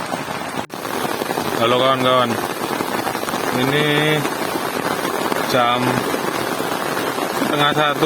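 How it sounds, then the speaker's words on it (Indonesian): Steady rain falls on a tent at a family campsite at night, a continuous dense hiss that runs the whole way through while someone talks over it close by. "hujan terus"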